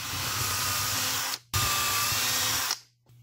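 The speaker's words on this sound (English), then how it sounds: "Just going to drill 2 holes for screws" A power drill whirs in two bursts, each a few seconds of steady high-pitched drilling screw holes in a wooden folk art snowman, separated and followed by short pauses.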